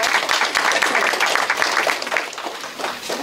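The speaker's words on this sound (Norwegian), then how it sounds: "Det har vært en liten applaus" A small crowd at an art exhibition opening in Moss, Norway, claps in a loose, lively burst that fades slightly toward the end, with some murmured voices mixed in.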